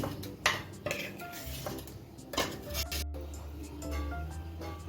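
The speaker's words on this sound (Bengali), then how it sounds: "আমি একটা নন স্টিক করাতে মিশ্রণটা নিয়ে নিচ্ছি" Smooth ripe-mango halwa mixture goes into a non-stick pan with several close clinks and scrapes of a utensil against metal, followed by a low steady hum.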